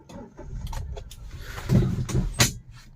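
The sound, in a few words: car engine starting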